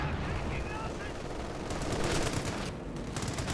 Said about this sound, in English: Machine guns in the middle though, causing some headaches.